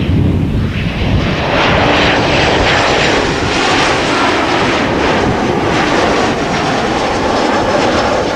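Airliner arriving at an airport, such as an Embraer 175 or a 737-900: a loud, sustained engine roar with broad rushing noise holding steady throughout, no talk.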